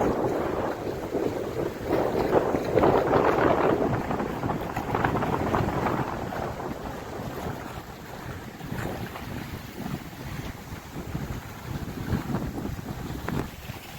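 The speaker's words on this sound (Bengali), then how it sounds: "নদীতে একদম ভালোই তুফান হচ্ছে।" Strong stormy wind gusting over a river in the Sundarbans, a steady rushing roar with choppy water and a boat's churning, loud and continuous throughout without speech.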